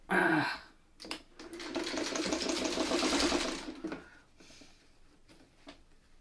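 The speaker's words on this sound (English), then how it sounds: "And we're going to sew across." A sewing machine runs close by, stitching across fabric pattern pieces in a steady rapid whir for about three seconds, framed by brief handling noises before and after.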